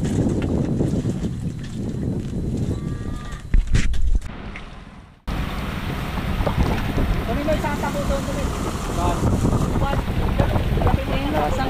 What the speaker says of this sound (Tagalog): May hangin na.